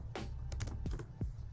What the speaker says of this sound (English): Now I'll go ahead and type in my username here